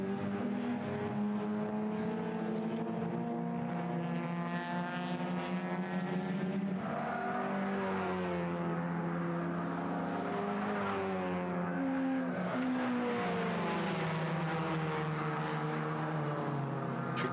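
Racing cars on a circuit at a Caterham festival, a continuous high, wavering squeal of tyres with engine tones sliding up and down, steady and loud throughout.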